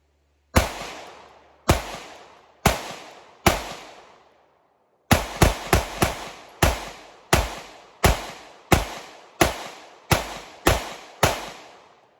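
Sig P365 X-Macro pistol fired outdoors in about fifteen sharp, loud gunshots, first four spaced slowly, then a pause followed by a faster string of evenly paced shots, each with a short ringing decay.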